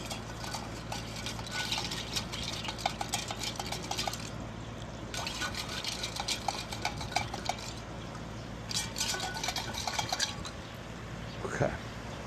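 Intermittent scraping and clinking as something is stirred in a container, bursts of utensil rattling separated by pauses, fairly faint and close, with people talking around it.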